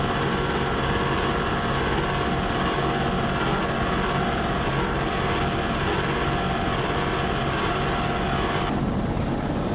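Big Mercruiser engines on offshore racing powerboats rev above 6,000 rpm at a 1979 world offshore race in Venice, a loud, unbroken, dense roar that fills the whole stretch.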